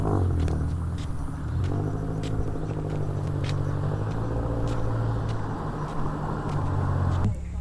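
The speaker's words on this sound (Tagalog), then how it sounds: "Tabi ka, may sasakyan." A car rumbles steadily nearby on a road beside a campsite in Calamba, Laguna. The low engine drone holds throughout and breaks off abruptly near the end.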